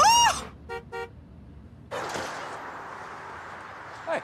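Car horn honking in traffic: a sharp toot at the start, then two short quick honks, followed by a broad rumble of road noise and a brief final blip, with no talk.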